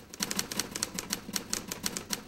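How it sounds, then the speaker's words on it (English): Rapid, uneven clacking of a manual typewriter's keys, struck in quick bursts of sharp metallic taps with no voices, close and steady throughout. "Then he sat down at his typewriter"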